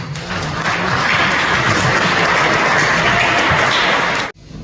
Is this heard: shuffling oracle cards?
no